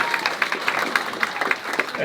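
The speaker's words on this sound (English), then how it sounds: "Give a round of applause for Marion, because who's tougher than that" Audience applause at a Lake Area Tea Party gathering, steady dense clapping that fills the whole short stretch at moderate loudness with no pause.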